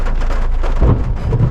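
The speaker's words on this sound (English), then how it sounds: "There's lightning, there's thunder, there's lots of rain" Heavy rain pours steadily during a summer thunderstorm in France, with low rumbling thunder swelling beneath the dense, close hiss of the downpour.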